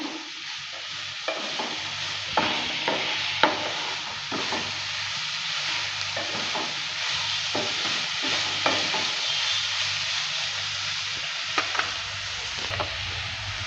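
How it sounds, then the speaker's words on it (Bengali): Soybean and pointed gourd peels stir-frying in a pan: a loud continuous sizzle broken by repeated scraping knocks of the spatula at an irregular pace, with no voices. "সোয়াবিন একসঙ্গে ভেজে নেব দেওয়ার পর আবারও নেড়ে নিচ্ছে"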